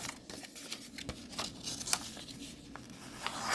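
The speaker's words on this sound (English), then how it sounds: "Crease it. Can you hear me creasing it? You gotta use your thumbnail." Paper being creased and rubbed firmly with a thumbnail while folding paper squares, giving close, soft crinkling and scraping strokes in an irregular rhythm, with no talk.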